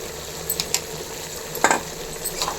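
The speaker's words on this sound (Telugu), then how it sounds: "ఇందులో ఇప్పుడు ఒక టేబుల్ స్పూన్ అలవెల్లి పేస్ట్ అయితే వేస్తున్నానండి" Ginger-garlic paste dropped into a hot pan and stirred, producing a steady sizzle broken by a few short scraping and clinking stirs, close and fairly loud, with no voices.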